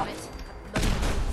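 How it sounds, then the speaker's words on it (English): A sudden heavy boom from a grenade explosion in Fallout 4 lands near the end, following a softer rumbling stretch of game ambience. "Look how many freaking explosions are going on."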